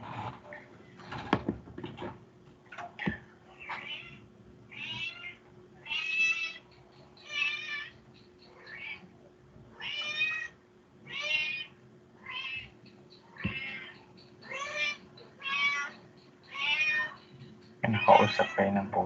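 A domestic cat meows repeatedly, a dozen or more short separate calls spaced a second or so apart, fairly close in a quiet room, with a low steady hum underneath.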